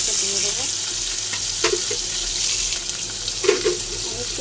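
Chopped onions dropped into hot oil with cumin, frying in a steady broadband sizzle with a couple of brief louder crackles as they hit the pan, close and fairly loud, no talking.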